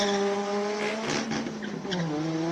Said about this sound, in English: Turbocharged 4-cylinder rear-wheel drive Mark II Escort up the hill.